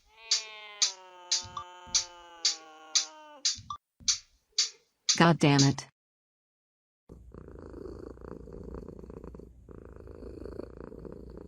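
A cat meows repeatedly in a steady series of close, loud calls, then caterwauls briefly before falling quiet; afterward a low purr-like rumble continues, and a person speaks briefly.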